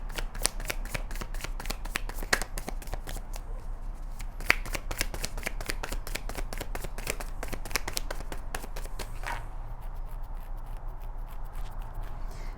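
Tarot cards shuffle continuously in quick, crisp riffles and flicks, close and steady over a faint low hum, with no voices.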